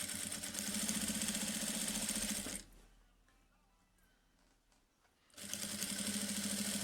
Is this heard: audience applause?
no